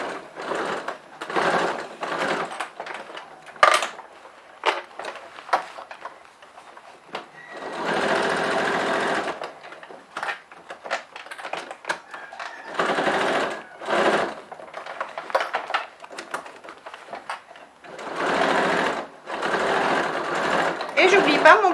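Domestic sewing machine stitching a small round fabric pencil case, running in repeated bursts of steady whirring separated by pauses, fairly close, with someone talking between and over the runs.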